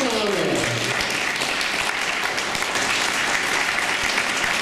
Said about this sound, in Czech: A tomu zatleskáme.